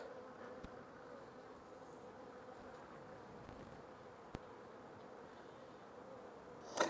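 Honey bees buzz steadily around an open hive during an inspection of a new split, a dense, even drone close by with a few brief clicks and a sharper knock at the end.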